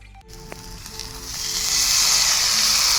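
Chow mein hits a hot pan after a few faint clicks, and a loud, steady sizzle swells and holds close by.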